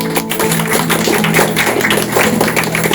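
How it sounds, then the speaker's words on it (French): An audience at a reading-aloud contest final claps for itself, a dense, steady burst of applause filling a few seconds close to the recording point. "Vous pouvez vous applaudir."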